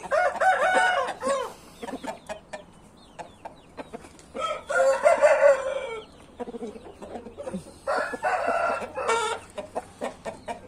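Naked neck chickens, chicks and roosters together, clucking in several loud, busy bursts separated by short lulls, fairly close.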